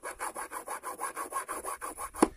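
A thick plastic eyeglass temple arm is filed down to thin it, making about a dozen even, rhythmic rasping strokes close to the mic. A single sharp knock comes at the end.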